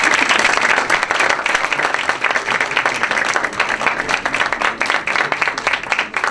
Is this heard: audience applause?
yes